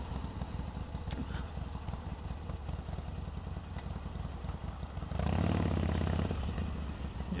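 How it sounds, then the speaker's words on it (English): A Harley-Davidson 883 V-twin motorcycle engine idles with a steady, low, throbbing exhaust rumble that swells louder toward the end. "the exhaust has the Harley sound"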